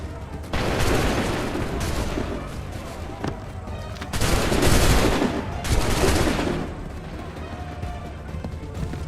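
In Assassin's Creed III, volleys of musket fire crack out in dense, overlapping bursts of gunfire, several rolling barrages separated by short lulls of battlefield noise, loud and close.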